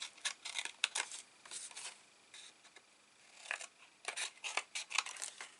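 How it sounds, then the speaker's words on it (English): Small craft scissors trim the corners off a piece of card, making quick, quiet clusters of crisp snips and rustles with short pauses between cuts. "We're going to just trim the corners off because we're going to attach this."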